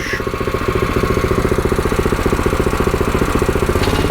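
A Champion 19-inch rear tine tiller's small engine runs at low throttle, a loud, close, steady rapid chugging idle with an even pulsing beat throughout.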